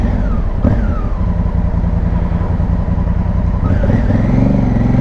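A Honda motorcycle engine runs steadily and loudly during a night ride, its tone rising and falling as the rider shifts and accelerates, heard close up with no talk.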